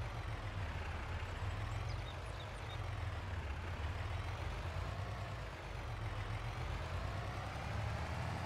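A farm truck reverses in the Farming Simulator video game on the Upper Mississippi River Valley map, its engine giving a steady, close, low rumble that holds evenly throughout with no voices.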